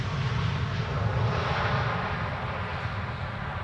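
An airplane lands at Amsterdam Schiphol Airport, a steady loud roar of jet engines with broadband rushing noise, continuous and fairly close, no voices.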